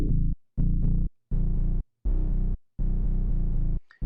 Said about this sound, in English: see, now that's a distortion effect.